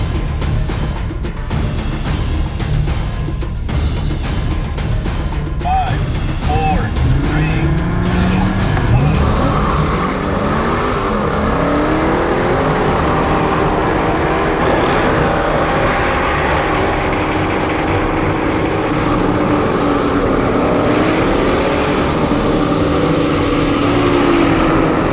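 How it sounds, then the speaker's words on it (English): Dodge Hellcat and Viper cars do burnouts in a race with the tires on fire, producing sustained, loud engine roar mixed with continuous tire squeal and skidding close by throughout. "Now in the second competition, we're gonna do burnouts again"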